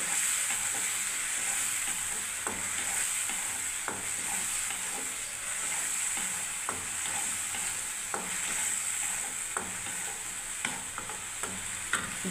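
Coconut filling for bora pitha is stirred in a wok over steady frying sizzle, with repeated scraping knocks of a spoon against the pan at an irregular pace, close and moderately loud.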